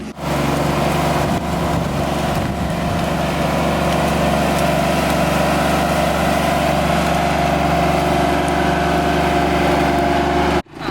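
A tractor engine drones steadily up close, a constant low rumble that holds for several seconds before cutting off near the end.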